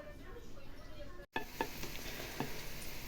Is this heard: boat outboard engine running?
no